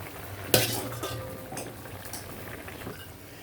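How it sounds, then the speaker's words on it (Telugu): Egg curry stew simmering in a pot, a sharp utensil clink against the pot near the start, then soft bubbling and stirring scrapes, close and moderately loud. "పులుసు మరుగుతుంది కదండి"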